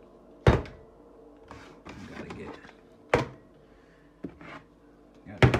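A wooden cabinet door opens with a few loud thunks and knocks, spaced out over a few seconds, with some soft handling noise between them.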